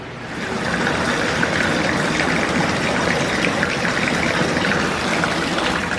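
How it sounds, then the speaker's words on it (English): Faucets run with a steady, full rush of water that stays constant and close throughout, with no voices, inside an after-dark EPCOT World Showcase setting. "we got the faucets going off in here"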